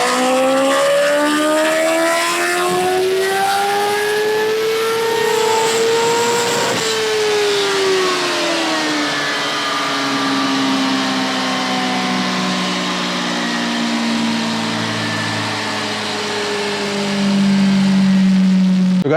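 Supercharged motorcycle engine, from a 330 BHP Triumph Rocket 3R or 260 BHP Kawasaki Ninja H2, revving on a dyno during a warm-up run indoors: loud rising and falling revs with whining harmonics sweeping up and down across the run.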